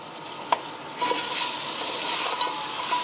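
Turmeric and red chili powder sizzling as they are stirred into hot oil in a cooking pot for a restaurant-style beef korma, a steady soft frying hiss broken by a few spoon scrapes against the metal.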